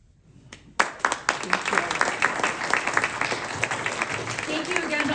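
At a Democratic primary candidate forum, an audience breaks into applause after a sharp start, and steady, moderately loud clapping from a crowd keeps going to the end.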